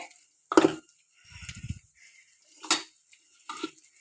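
A pan of masala and oil is sautéed for palak paneer, with a few sharp utensil clinks and scrapes against the pan separated by short pauses and a soft low stirring rumble in between. No one speaks.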